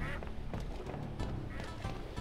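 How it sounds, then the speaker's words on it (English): A cartoonish duck quacks several times in the Dreamcast video game Skies of Arcadia, loud and close over game music, with no talking. "I heard a duck."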